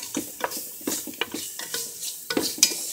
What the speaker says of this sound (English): Stir this around a little